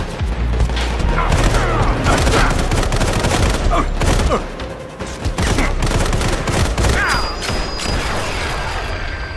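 Assault rifle fire in the mobile shooter game Sniper Fury: dense, loud bursts of rapid gunshots with booming impacts, continuing almost without pause for the whole stretch.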